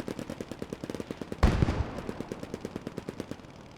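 Mortar fire in a video game battle involving a mortar half-track: one heavy, loud boom that rolls out into a rumbling tail, set against a steady, rapid rattle of distant machine-gun fire.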